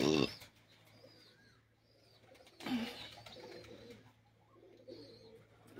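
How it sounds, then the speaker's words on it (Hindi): Large pigeons kept on a rooftop loft cooing in soft, low throaty calls, with a couple of louder bursts of wing and bird noise near the start and middle, otherwise fairly quiet. "ये बड़े कबूतर मौजूद हैं यहाँ पर"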